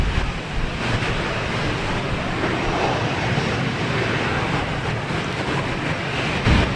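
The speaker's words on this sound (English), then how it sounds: "We have a JetBlue taking off heading to Detroit." JetBlue airliner taking off at Boston Logan Airport, heard as a steady, broad roar of jet engine noise mixed with wind, holding even through the stretch with no voices.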